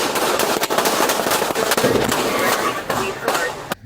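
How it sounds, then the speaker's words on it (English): Police gunfire at a suspect's vehicle during a chase, heard as a rapid string of loud, close sharp cracks in quick succession over dense noise, with shouting voices mixed in. "I think totally justified in firing at that vehicle"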